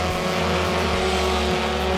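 Race cars roar around a dirt track during a Friday night race, a continuous droning engine note with one car sweeping past nearby.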